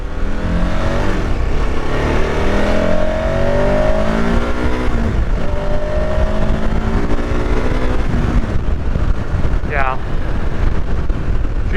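A 2023 KTM 1290 Super Adventure S rides along on a demo ride, its engine a steady low drone under heavy wind buffeting, pitch rising and falling with throttle changes, while the rider talks over it.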